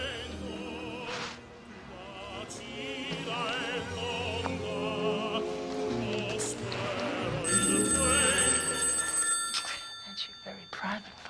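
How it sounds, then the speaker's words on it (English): A telephone bell rings in repeated loud bursts that cut across dramatic music and people talking, with the ringing becoming most prominent in the later part. "That's your very private phone."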